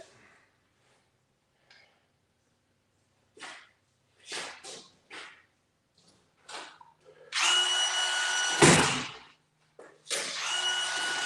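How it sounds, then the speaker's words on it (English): A power screwdriver drives two screws into drywall at the four-foot mark, heard as two loud, close whirring bursts of a few seconds each after scattered quieter handling noises. "Let me put the 2 screws in the proper location at the 4-foot mark"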